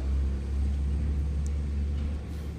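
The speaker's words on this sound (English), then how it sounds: "There's a garbage truck." A garbage truck rumbles past outdoors, a heavy, steady low engine drone that stays loud and close before easing slightly near the end.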